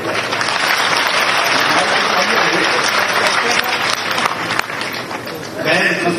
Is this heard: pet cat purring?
no